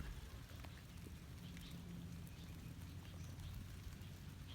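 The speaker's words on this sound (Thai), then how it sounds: "ฝนกำลังตกเลยนะคะ" Steady rain falls outdoors in a Thai cactus garden among potted Opuntia macrocentra plants, a dense constant patter with scattered drops, no voices.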